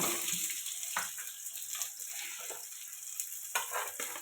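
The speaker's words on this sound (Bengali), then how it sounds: "তেল দিয়ে দিলাম, পেঁয়াজ দিয়ে দিলাম" Onions frying in oil for a potato dish crackle and sizzle softly and continuously, with scattered stirring scrapes and small pops layered over the hiss.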